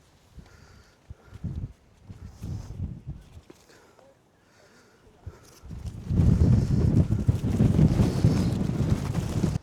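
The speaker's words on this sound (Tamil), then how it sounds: "காற்று ரொம்ப பயங்கரமாக அடிக்குது." Strong wind on a rocky hilltop buffets the microphone in gusty, uneven surges, fainter at first and then a loud, continuous roaring rumble over the last few seconds.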